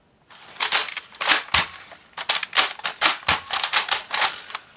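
A Nerf Surgefire toy blaster fires a rapid string of sharp plastic clacks and snaps, about a dozen close, loud bursts in an uneven rhythm with no talking.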